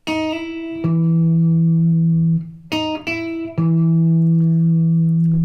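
An electric guitar plays a short blues turnaround lick in E of a few plucked notes, each ringing out, ending on a sustained low root note.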